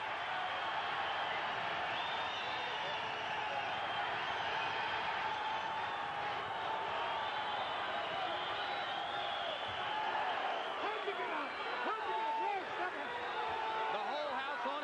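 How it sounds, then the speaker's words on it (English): A boxing arena crowd is on its feet, a dense steady roar of applause and cheering that runs throughout, with a commentator talking over it. "The whole house on its feet now, applauding the effort of both fighters"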